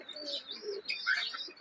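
Pigeons basking in the sun let out a brief run of soft coos mixed with light chirping, near and moderately loud, with no voices.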